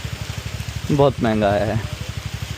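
Rain falls outdoors near a tree, a soft, rhythmic patter of drops that continues under a brief stretch of someone talking.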